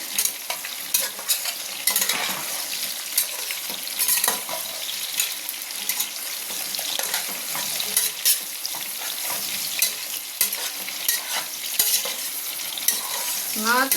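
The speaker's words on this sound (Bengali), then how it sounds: "তো ডাঁটাগুলো একটু হালকা নাড়িয়ে" Vegetable stalks fry in a pan for khichuri as they are stirred, a loud continuous sizzle broken by frequent scraping and clattering strokes of the spoon, nearby and without talk.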